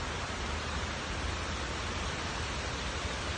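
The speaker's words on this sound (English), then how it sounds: "The waterfalls." A waterfall beside Sheikh Zayed Road in Dubai gives off a constant, dense rushing hiss, steady and fairly loud, with no voices over it.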